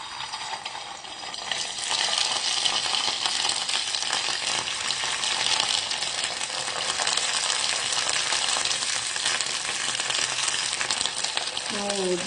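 Sutte appa batter spooned into hot oil and frying, a dense, loud, steady crackling sizzle that swells after the first couple of seconds and runs on without a break.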